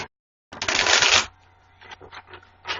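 A deck of cards is shuffled for a card reading, a loud riffling burst lasting under a second followed by softer scattered card handling sounds.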